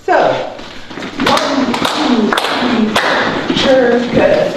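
Sharp hand claps land over running dance steps in a dance workshop, a series of close, loud claps in a steady rhythm, with a voice speaking throughout.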